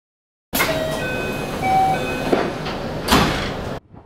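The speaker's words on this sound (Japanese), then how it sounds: "ドアを閉めようと思います" Doors of a Shinkaisoku rapid train bound for Himeji closing at Kyoto station: a steady platform and train rumble carries a couple of sliding thuds and a brief chime-like tone, with no talk, ending abruptly.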